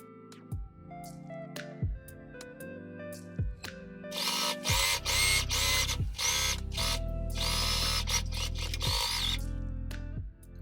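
A sewing machine stitches the underarm edge of a blouse sleeve, running in short bursts at first and then in longer steady runs of rapid needle clatter, close and fairly loud, with brief pauses between passes.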